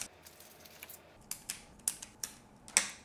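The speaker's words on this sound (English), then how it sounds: "Okay, we'll cut the rails off." Plastic Makeway marble-run rails being snipped off their moulded frame, several short sharp cutting clicks spaced about half a second apart, close and fairly quiet, with no talk.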